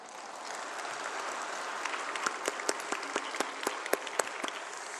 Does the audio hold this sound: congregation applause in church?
yes